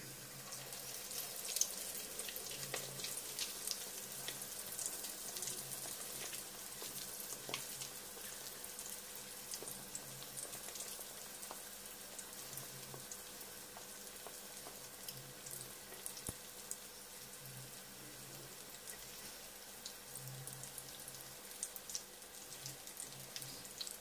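Homemade ravioli frying in hot oil make a continuous fine crackling sizzle that stays fairly quiet and steady throughout, with faint small pops scattered over it.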